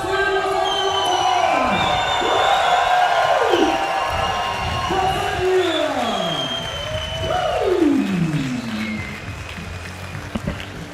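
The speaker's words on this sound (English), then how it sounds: "this is the crowd here in Jena, really enthusiastic people" An enthusiastic crowd at a bouldering competition in Jena cheers and shouts loudly and continuously, with rising and falling whoops and a voice amplified over the noise.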